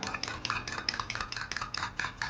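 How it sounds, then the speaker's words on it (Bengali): Eggs and milk whisked briskly in a bowl for an egg pudding, giving a steady run of quick clinking and scraping strokes against the bowl, close and fairly loud, with no voice. "দুধটা দেওয়ার পরে ডিমটাকে খুব ভালো করে ফেটে নিতে হবে"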